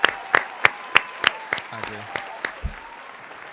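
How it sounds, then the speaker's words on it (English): Applause for Plies on a podcast set, several sharp close claps that thin out and fade, with a voice speaking briefly partway through. "Let me give Plies a round of applause"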